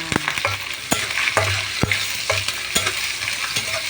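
Garlic browning with onions in a hot oiled pan, a steady close sizzle broken by repeated sharp spatula scrapes and knocks as the mixture is stirred.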